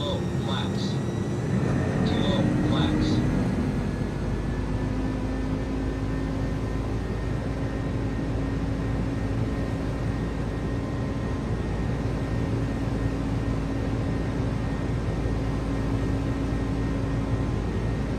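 Steady, loud jet engine roar from an Airbus A300-600R in a flight simulator during a go-around, a continuous broadband rush with a low drone and brief higher tones at the start as a voice speaks.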